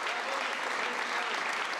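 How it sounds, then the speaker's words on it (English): Steady, dense applause from hundreds of people standing in the halls of Parliament, honoring an honorary Speaker of the House; a continuous wash of clapping at moderate distance. "Applause echoed through the halls of Parliament as hundreds stood to honour Mauril Belanger."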